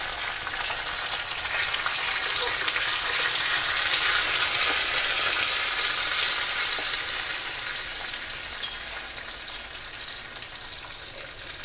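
Fresh coriander fries in hot oil for a spinach lentil dal tempering, giving a loud, continuous sizzle and crackle that swells slightly midway and eases toward the end, with no talk.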